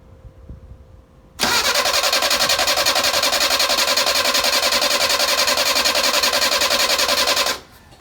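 A Mercedes 190SL engine turns over and catches without choke or throttle, settling into a loud, steady, even idle for several seconds up close before cutting off abruptly.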